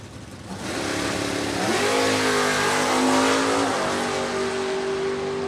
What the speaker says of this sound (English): That Camaro dialed in at 605. Ernie Humes in the Mustang, right lane, dialed 617.